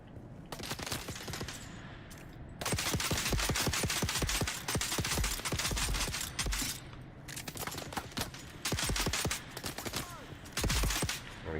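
Rapid automatic gunfire from a weapon in the Star Trek video game, loud dense bursts of shots separated by short pauses, close and continuous with no talk.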